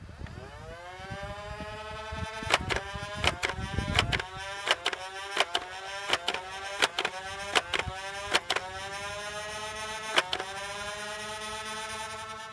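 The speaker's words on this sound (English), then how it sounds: "now this is the World Tech Warrior firing standard elite darts" World Tech Warrior Renegade toy blaster firing elite foam darts: a rising electric motor whine that spins up, then a rapid, irregular series of about a dozen sharp shots, each with a motor hum behind it, close and clear.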